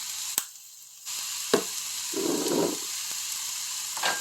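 Bacon beef hash sizzles in a pan, a steady fry crackle with a brief louder burst of spitting midway and a few sharp clicks, close and fairly quiet.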